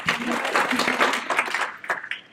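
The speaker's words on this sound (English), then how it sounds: "I just want to give y'all a round of applause" An audience at a talk to legislators and families claps in a short burst, steady and fairly close, trailing off into a few scattered claps after about two seconds.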